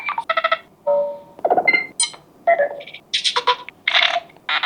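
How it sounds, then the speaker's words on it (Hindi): A run of short electronic notification tones from a Nothing Phone 3, several distinct chimes and beeps played one after another with brief gaps, clear and close with no talking. "तो नोटिफिकेशन में आपको 10 नोटिफिकेशन साउंड्स हैं,"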